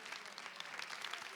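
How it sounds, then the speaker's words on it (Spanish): Applause from a church congregation during a Spanish-language service celebrating the Resurrection, a steady dense clapping throughout the short span at moderate level. "Denle ese aplauso al Señor"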